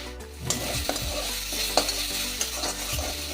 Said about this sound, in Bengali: শাকটা একটু ভাজা ভাজা করে নেব।